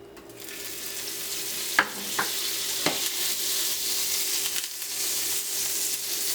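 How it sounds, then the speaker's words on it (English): Chopped red and green peppers with Scotch bonnet saute in a little butter for Jamaican stew peas, giving a steady soft sizzle with a few sharp clicks of stirring near the start. "So what I do is just saute them in a little butter."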